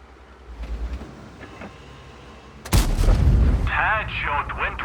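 A single heavy cannon shot from a Strv S1 tank destroyer in World of Tanks, a sharp loud boom midway followed by rumbling tail and metallic game effects, with faint engine drone before it.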